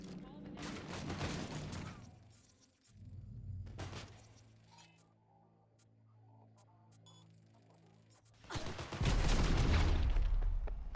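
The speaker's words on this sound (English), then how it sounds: "Holy hell, like why are they shooting me?" Gunfire aimed at the player in Cyberpunk 2077: loud bursts of shots at the start, a shorter burst in the middle, and a heavy barrage at the end, with quieter in-game sounds and a low hum between them.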